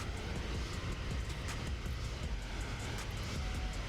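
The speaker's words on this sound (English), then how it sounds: "The engines are probably like really loud." Jet engines of a Zibo 737 cargo freighter in X-Plane 11, a steady broadband roar and hum with no breaks, moderately loud and even throughout.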